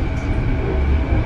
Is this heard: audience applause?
no